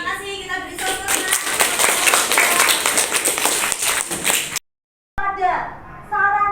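Students in a classroom applaud in a dense burst of clapping lasting about four seconds. A short silent gap follows, then voices speak.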